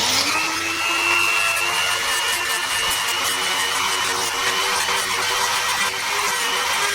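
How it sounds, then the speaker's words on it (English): A Dremel rotary tool cutting a slice into a rubber ball joint boot, a steady, loud high-pitched whine that holds constant and close throughout. "I'm going to cut in a little slice with the Dremel"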